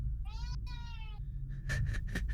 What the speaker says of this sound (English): my cat is screaming